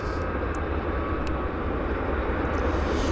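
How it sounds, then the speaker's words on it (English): A WestJet airliner pushes back from the gate at Vancouver airport, giving a constant loud, broad engine roar with a steady whine, continuous throughout and unbroken by talk. "So we've got another WestJet pushing back off the gate right there."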